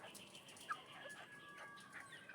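Cockerels and pullets moved into a range area cluck and call faintly at a distance, with a few short bird notes over a quiet outdoor background.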